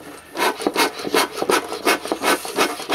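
Wooden stump being chiselled out to make a bee hive, giving a steady run of close, rhythmic scraping and rasping strokes against the wood, with no talk over it.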